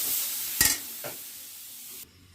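Steady sizzling of hot spices in a pan for an egg curry, broken by a sudden loud splash of broth being poured in, then a brief stir before the hiss drops away.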